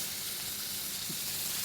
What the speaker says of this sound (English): if you can hear that sizzle, that is what you want